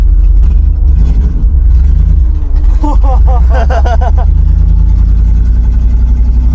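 A 1966 Ford Mustang vintage racing car's engine rumbles and revs while driving, a loud low growl with a few rising bursts in the middle, under people talking in the car.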